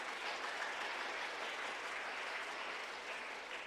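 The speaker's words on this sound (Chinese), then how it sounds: "我们呢用我们的掌声来谢谢 郑牧师的辛劳" A church congregation applauds during a worship service, giving a dense, even wash of clapping that holds steady for several seconds at moderate volume.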